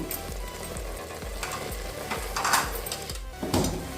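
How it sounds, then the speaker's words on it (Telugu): An onion and tomato mixture for tomato rice fries in a pan, giving a continuous loud sizzle broken by scraping stirs and clatter, with no talking. "దీన్ని మనం బాగా వేపుకోవాలి"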